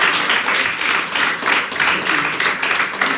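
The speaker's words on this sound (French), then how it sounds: "vous pouvez vous applaudir." An audience at a stand-up comedy show claps in a lively, rhythmic way, with the clapping swelling and dipping in regular waves. It stays fairly loud throughout with no talking.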